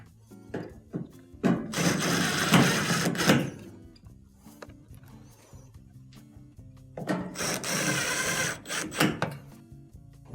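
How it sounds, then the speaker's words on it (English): Screws being driven back into the front of a GE washer dispenser assembly during a repair, heard as two bursts of close, loud whirring and scraping separated by quieter handling clicks. "Now we can reinstall the 3 screws on the front."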